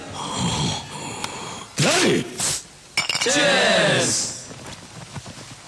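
Glasses clink in a celebratory cheers toast among a group of men in a film scene, with sharp bright chinks amid gasps and talking voices.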